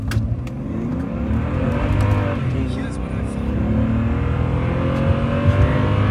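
A BMW 7 Series car accelerating from 0 to 100, its engine holding a steady, loud roar that builds slightly over several seconds, heard from close by with voices faintly mixed in.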